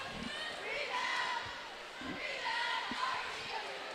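A large crowd murmurs and cheers steadily through a boys high school basketball game in an arena, with a few ball bounces and thumps rising from the din.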